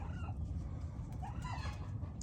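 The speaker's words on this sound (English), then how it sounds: "That's a cream leg bar rooster, which I'm very excited about." A cream legbar rooster makes a few soft, low clucks, fairly faint against a constant rumbling background.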